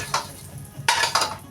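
Pochero ingredients are stir-fried in a pan, with a couple of quick bursts of utensil scraping and clattering against the metal over a soft sizzle.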